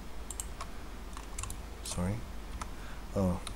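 Computer keyboard keys click and tap during a Blender 3D modelling session, scattered soft presses under a faint hiss, with a couple of brief mouth sounds.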